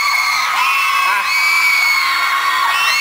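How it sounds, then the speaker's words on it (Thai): Fans at a live event scream and cheer continuously, a loud dense wall of high-pitched shrieking that holds steady throughout. "บอกแล้วว่าเสียงกรี๊ดไม่พูดกันเลยทีเดียว"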